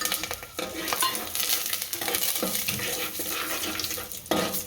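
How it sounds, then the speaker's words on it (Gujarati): Dry spices, chilies and curry leaves are stirred in a hot pan with asafoetida. A loud, close, continuous scraping and rustling sizzle runs through with repeated stirring strokes. "થોડું હલાવી નાખીએ એટલે બધું ગરમ થઈ જાય"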